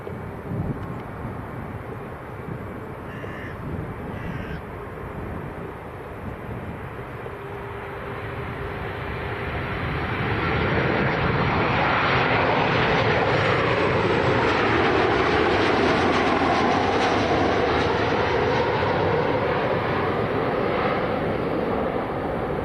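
A Jet2 Boeing 737-800 airliner arriving from Tenerife South at Leeds Bradford Airport roars in, its engine noise swelling from a distant rumble to a loud, broad, sustained roar as it passes close.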